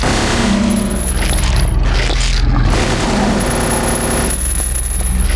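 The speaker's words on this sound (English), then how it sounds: "All those bullets falling to the ground" Bullets and spent shell casings rain onto the ground in Silent Hill 3, a dense, loud clatter of metallic tinkling over a booming, heavy game soundscape that continues throughout.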